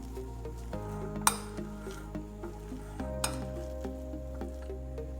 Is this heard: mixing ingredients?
yes